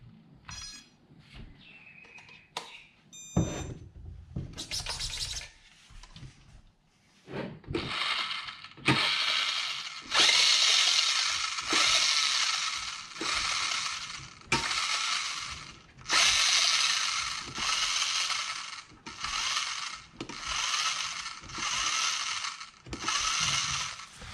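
A JJRC 1/20 scale RC car runs on an outdoor track, its small electric motor whining in repeated loud bursts that start and stop as the throttle is worked, with a few clicks and knocks before the runs begin.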